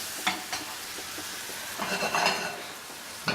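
Mushrooms steam gently in a pan with a little added water, giving a soft continuous sizzle and hiss punctuated by a few light stirring scrapes and taps.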